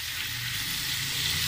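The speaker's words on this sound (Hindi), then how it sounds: "सेम डाल देंगे और मसाले के साथ सब्जी को अच्छे से भून लेंगे उलट पुलट कर इस तरह से।" Broad beans and potato pieces being fried with spices, a steady close-up hiss of sizzling oil throughout, with no distinct tossing strokes or voices.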